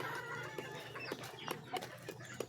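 Hens clucking in short, irregular bursts close by, with faint rustling and a low background hum; no one speaks.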